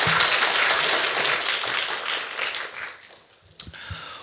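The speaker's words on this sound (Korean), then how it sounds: "박수 한번 여러분 해주십시오" A church congregation applauds during a Sunday service, a dense spread of clapping that holds steady for about three seconds, then thins and fades, with a few sharp claps near the end.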